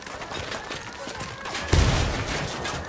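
Gunfire during a firefight in the Ghost Recon Wildlands video game, a rapid volley of shots with a heavier, louder burst partway through over continuous battle noise.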